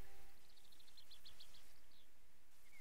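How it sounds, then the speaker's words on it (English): Faint bird chirps in the video game House Flipper, a run of short repeated tweets followed by a couple of longer calls, thin and distant over a steady background hiss. "Because I'm hearing birds."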